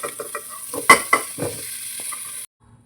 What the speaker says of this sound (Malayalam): നമുക്ക് പനീറിട്ട് ജസ്റ്റ് ചെറുതായിട്ട് നമുക്ക് ഫ്രൈ ചെയ്തെടുക്കാം